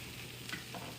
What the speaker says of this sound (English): But you can hear him sizzle. The cheese is sizzling on there